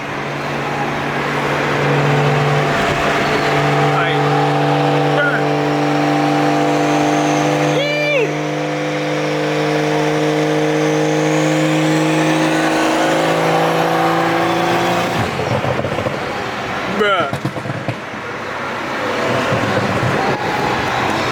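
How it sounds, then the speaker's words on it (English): A loud car engine revs and drones steadily at a car meet, its pitch climbing, with a brief burst of talk partway through. "And this man car loud."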